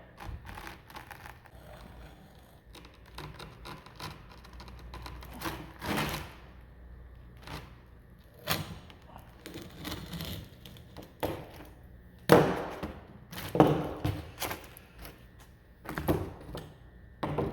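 A straight utility blade slices down a line through an installed asphalt roofing shingle, giving scattered scraping cuts and sharp knocks, with a few louder thunks near the end, heard close and alone.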